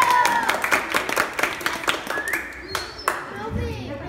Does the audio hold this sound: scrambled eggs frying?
no